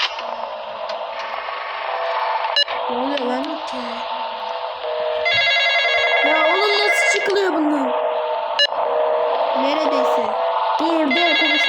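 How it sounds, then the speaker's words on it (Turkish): A telephone rings over and over, its bright electronic trill repeating through the whole stretch, while voices murmur nearby. "La telefon arıyor."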